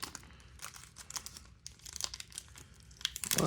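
A trading card pack wrapper being torn and crinkled open by hand, a close, irregular run of plastic crackles and rips, growing louder at the very end.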